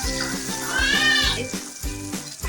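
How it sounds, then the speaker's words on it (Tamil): Dried red chillies fry with garlic and onion in hot oil, a steady close sizzle and crackle with no voices. "பூண்டும் வெங்காயமும் நல்லா வதங்கினதும் காஞ்ச மிளகாய் போட்டு நல்லா வதக்கிக்குங்க"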